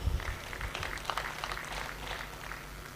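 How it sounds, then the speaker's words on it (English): Audience clapping at a tertiary institutions colloquium in Ondo State, Nigeria, for guests from neighboring states: steady, diffuse hall applause with a low rumbling undertone throughout. "Let's clap for them too."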